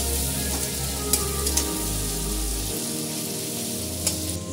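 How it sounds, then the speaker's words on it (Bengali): Ginger and garlic lightly frying in a pan, a steady close sizzle with a few sharp crackles and pops, and a low hum that stops partway through. "এবার আদা রসুনটাও আমি দিয়ে দেবো। এবার আমি এটা হালকা ভেজে নেব।"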